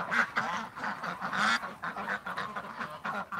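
Ducks being herded around a pen by a dog give a dense stream of overlapping quacks, steady and fairly close, with no pause in the calling.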